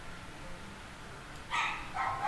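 A dog in the Skyrim game world barks in the background, two short, faint yips arriving late, following a quiet stretch.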